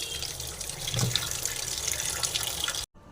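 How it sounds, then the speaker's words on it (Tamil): Sweet potatoes are rinsed under running tap water in a sink, giving a steady hissing splash with small sputters before the sound cuts off abruptly at the end. "கிழங்கு வந்து நல்லா க்ளீனாக கழுவிடலாங்க நல்லா மண்ணு போக க்ளீனாக கழுவிட்டு"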